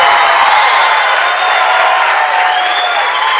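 New Hampton crowd at a high school wrestling quad roars with sustained cheering and clapping, a loud, dense wall of noise that holds steady throughout.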